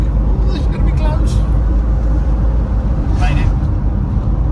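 An old Austin Princess car, recommissioned after being found in a barn, driving on the road with a loud, continuous low engine and road rumble filling the whole stretch.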